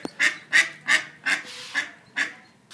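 Baby ducks in a video game honk and quack in a steady series of about seven evenly spaced calls, clear and close, with no voices over them.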